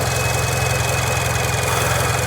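Subaru BRZ/GR86 boxer engine idling after an oil change, a steady low rumbling tractor-like chug, continuous and close, with no talk.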